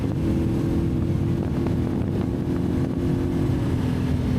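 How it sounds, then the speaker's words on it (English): CFMoto 450SS motorcycle with an HRT quick shifter accelerating hard, a loud continuous engine drone with brief dips at the quick gear changes, close and steady throughout, no talk. "Wow, that quick shifter is awesome."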